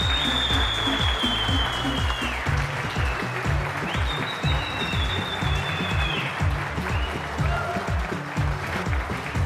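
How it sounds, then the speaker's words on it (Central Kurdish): A live audience at a Kurdish music stage show claps in a steady, rhythmic beat, loud and continuous, with a few whistles rising above the clapping. "شاتربی بە چەپڵەکانتان"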